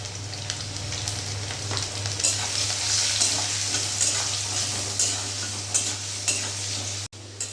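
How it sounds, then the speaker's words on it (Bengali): Diced potatoes fry in oil with salt and turmeric, a steady close sizzle running throughout with repeated scraping stirs of a spatula against the pan. "আমি এবার এখানে ডুমো ডুমো করে যে আলুটা কেটেছি আলুটা ভেজে তুলে নেব"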